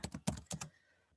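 Fingers tap out a zip code on a computer keyboard: a quick run of about five crisp, close keystrokes, followed by a short quiet stretch.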